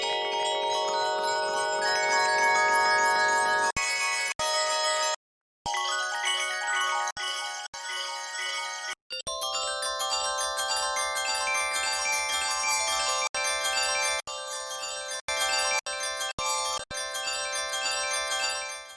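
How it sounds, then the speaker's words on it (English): Shimmering bell-like tones through Valhalla Supermassive reverb ring and overlap in slowly evolving layered drones, bright and sustained, with a brief dropout partway through before the texture returns fuller. "we're going to make simple evolving bell drones like these"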